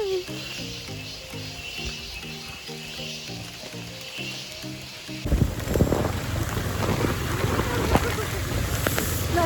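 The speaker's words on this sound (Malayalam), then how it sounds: "നല്ല കാറ്റ്, നല്ല മഴ." Strong wind and heavy rain roar loudly and steadily on the hill at Ponmudi, breaking in abruptly halfway through after a stretch of music.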